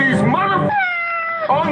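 A cat meows twice, loud and close, with a drawn-out whining cry between two shorter calls, standing alone without talk.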